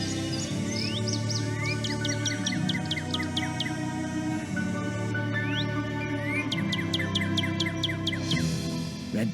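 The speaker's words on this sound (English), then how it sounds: "Northern cardinal." Northern cardinal song in the game Nancy Drew Ghost Dogs of Moon Lake: runs of clear, rising whistled notes repeating in two bursts over a steady hum of outdoor ambience.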